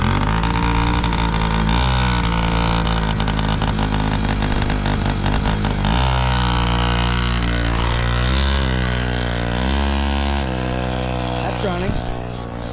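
Small two-stroke engine of a Yamaha PW50 dirt bike running steadily close by, a continuous buzzing drone with brief revs, while people talk over it.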